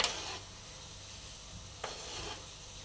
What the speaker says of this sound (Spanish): las ortigas las tengamos ya bien enjuagadas, pues las verteremos aquí en el cazo